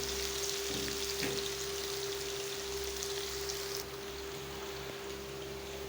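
A coarse paste of ginger, garlic and green chilli sizzles in a hot pan, a steady close hiss and crackle like light rain that drops slightly in level partway through, with no voices.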